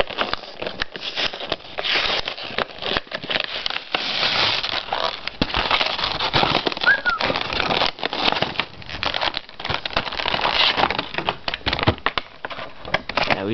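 Plastic packaging of a Halo Reach McFarlane Gold Mark V action figure is torn and handled up close, a dense, continuous crinkling and rustling that runs for the whole stretch with many small crackles and no pauses.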